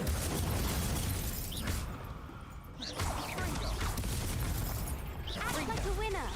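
The Incendio fire spell in Hogwarts Legacy goes off as a loud whooshing burst during a busy duel, with dense crackling effects and several bright swishing spell sounds that follow through the rest of the moment.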